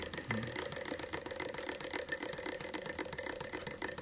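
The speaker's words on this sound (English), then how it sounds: "that noise you hear, this is my homemade bobbin holder" Rapid mechanical clicking, like a small ratchet spinning, from a homemade fly-tying bobbin holder, ticks steadily throughout at close range, fairly quiet with a faint background hiss.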